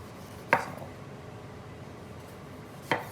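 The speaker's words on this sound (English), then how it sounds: "I might as well just slice up this whole tomato" Two crisp knife cuts through a tomato onto a cutting board, spaced a couple of seconds apart, close and clear over quiet room tone.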